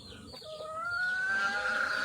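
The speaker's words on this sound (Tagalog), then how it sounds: "Yan, kay Papa din po itong mga manok." Papa's chickens cluck behind the house, with a short rising call and a drawn-out bird note near the end, a little distant and modest in level over a faint outdoor background.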